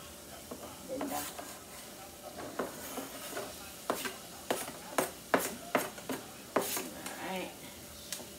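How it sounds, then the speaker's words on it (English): Garlic and onion sizzling in a hot pan while being stirred, with a soft frying hiss under a series of sharp utensil scrapes and taps against the pan, close and moderately quiet. "let's put the garlic and the onion in here. Yeah, that's sizzle."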